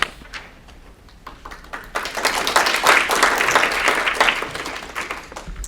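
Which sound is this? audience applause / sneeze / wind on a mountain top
audience applause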